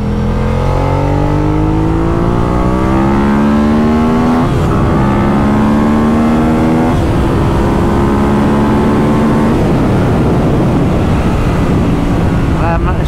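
A Monster motorcycle revs hard and accelerates through several gear changes. Its engine note climbs steadily and drops at each shift, close and loud, with wind rushing across the microphone throughout.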